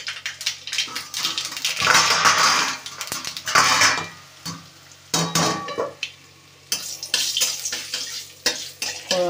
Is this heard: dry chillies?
yes